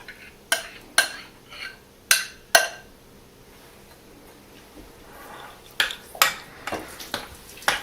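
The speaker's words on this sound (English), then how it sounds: "Give it a good stir, cook it all, so that all the potatoes get all of the sauce." A spoon stirring potatoes into cheese sauce in a pan gives sharp clinks against the metal in irregular clusters, separated by quieter stretches of soft scraping and squelching, close and clear.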